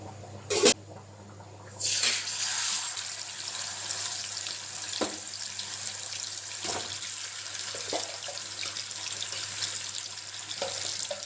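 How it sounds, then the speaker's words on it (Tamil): Steady hissing sizzle of quail frying in hot oil, with a few sharp clunks and pops scattered through. "எண்ணெய் சூடானோட காடை அதில் போட்டுக்கலாம்"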